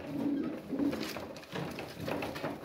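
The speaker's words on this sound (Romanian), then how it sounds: "Următorul porumbel pe care vi-l prezint" Pigeons coo softly and steadily in a breeding loft, several low, rounded coos repeating in a close, continuous murmur.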